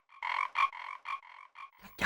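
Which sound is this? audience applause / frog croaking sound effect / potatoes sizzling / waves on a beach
frog croaking sound effect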